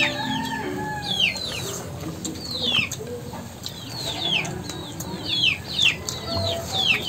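Chicks in a farmyard peeping noisily, with repeated high chirps over a constant rustling background.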